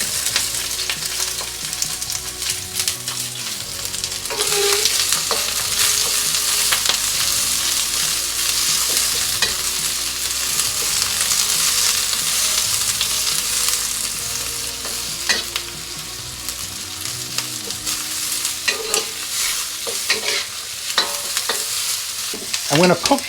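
Onions and peppers stir-fry in plenty of oil for a noodle dish, with a loud, steady sizzle throughout and scattered scrapes and clinks of a utensil moving the vegetables around the pan.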